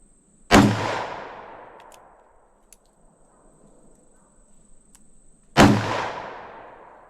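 Two loud, sharp .357 Magnum gunshots firing Freedom Munitions X Defense rounds at an outdoor range, each a sudden blast followed by a long fading echo, spaced about five seconds apart with no talk.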